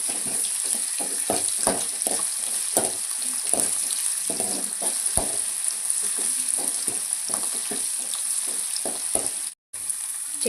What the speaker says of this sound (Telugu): ఒక టీ స్పూన్ అల్లం పచ్చి వాసన పోయేదాకా ఇలా వేపుకోవాలి